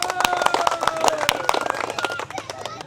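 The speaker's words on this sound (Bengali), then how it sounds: "আমরা খেলার আগে সবাই একটা সুন্দর করে করতালি দেই" An audience claps together before a traditional game of rolling a tyre with a stick; dense, lively applause with sharp individual claps, fading toward the end, with voices mixed in.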